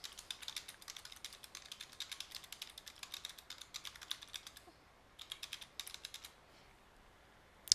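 Someone types a comment on a computer keyboard in quick, quiet bursts of clicking keystrokes, with a short pause before a final flurry of taps.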